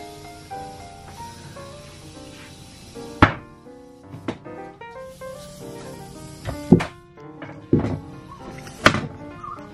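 Nail gun firing into wood while building a slide-out bed and couch in a bus motor home conversion, several sharp separate bangs with a hissing air release, close up, spaced over a few seconds with no talking.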